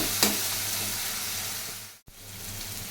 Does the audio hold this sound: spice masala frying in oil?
yes